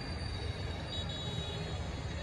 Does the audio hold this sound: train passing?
yes